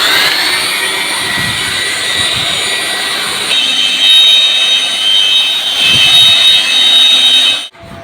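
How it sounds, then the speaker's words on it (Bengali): A repaired electric blower machine running, a loud steady whirring roar with a high whine that shifts slightly in pitch midway, then cuts off abruptly at the end. "কী করে এই বলওয়ার মেশিনটি কাজ করে"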